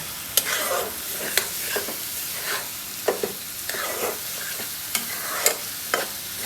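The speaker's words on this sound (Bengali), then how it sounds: "এখন এটা ডিমটা আর চিচিঙ্গাটা একসাথে মিক্সড করে ফেলব।" Egg and snake gourd being stir-fried together with a little oil, with repeated spatula scrapes and clicks against the pan over a steady low sizzle.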